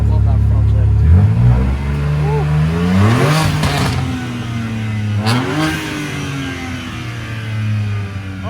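A Mercedes SL63 with a Remus exhaust and Venturi intake revs hard nearby, its engine climbing in several rising pulls with a deep rumble, while people talk excitedly over it.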